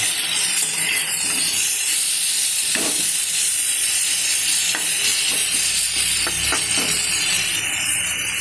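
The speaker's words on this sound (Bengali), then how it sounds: "কষানো চলছে।" Pumpkin, Malabar spinach stems and potatoes sauté in a pan with a steady, close frying hiss and sizzle, with occasional soft stirring scrapes running under it.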